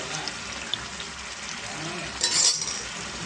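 Tomatoes with salt and turmeric fry in a pan for fish curry, giving a steady close hiss of sizzling with a brief clink and a louder swell near the end.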